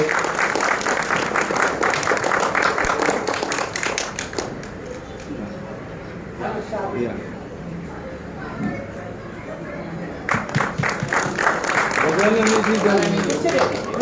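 Audience applause at a storytelling event with a shawl presentation, bursts of clapping at the start and end with a quieter stretch between where voices talk.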